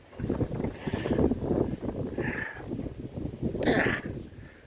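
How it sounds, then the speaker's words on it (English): Wind gusts outdoors during a November Jeep Wrangler oil change, a loud rumbling buffet against the microphone that swells and eases throughout with no talking. "The wind blew my pan away."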